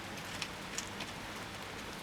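Heavy rain falls on an outdoor aviary housing fantail doves, a dense steady hiss with a few louder drips landing nearby, no voices.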